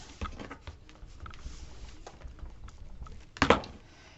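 A scored paper pop-up album card is folded by hand, giving soft, faint taps and light paper rustles, with one sharper crisp crease sound near the end; close and quiet, with no talk.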